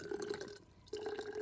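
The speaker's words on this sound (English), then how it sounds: "And then you're going to fill up your DI water bottle from here." Distilled water pours from a jug spout into a DI water bottle in a lab, a thin steady trickle that stops briefly and then resumes, close and quiet.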